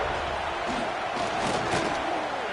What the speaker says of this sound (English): they are on their feet, yelling, screaming